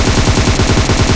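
Rapid, loud automatic gunfire from PUBG Mobile gameplay, a steady stream of closely spaced shots hammering on without a break.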